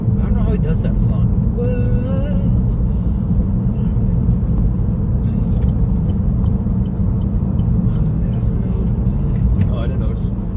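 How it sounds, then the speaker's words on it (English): A car drives behind on the road, a steady low rumble and whir throughout, with talk over it inside the vehicle. "I knew there was a car behind me"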